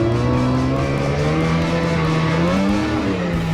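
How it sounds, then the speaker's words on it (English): A rental car climbs a hill, its engine note droning steadily with a rising, shifting pitch, close and loud throughout with no voices. "I just drove by a fun little hill that I thought Connor should go on."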